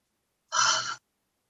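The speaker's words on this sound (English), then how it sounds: "Inhales, exhales." A single soft breath taken during an aerial yoga session, heard once as a brief, airy half-second rush of air in otherwise quiet surroundings.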